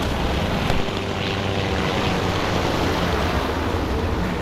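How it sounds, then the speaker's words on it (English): A steady, droning aircraft engine hums continuously in War Thunder, a propeller plane passing overhead through constant broadband rumble with no voices. "I hear another plane."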